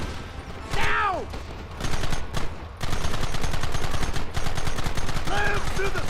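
Gunfire in a Red Dead Redemption western shootout: loud, rapid bursts of shots in quick succession, with brief pauses between volleys and shouting voices over the firing.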